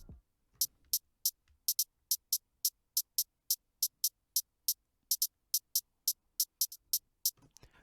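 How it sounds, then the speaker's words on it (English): Lo-fi drill hi-hat sample ticking in a steady, fast pattern of crisp, bright hits, about two dozen over several seconds, with occasional doubled strikes, played alone and fairly clear. "So yeah, this is what the hi-hat sounds like."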